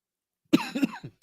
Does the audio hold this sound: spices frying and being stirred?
no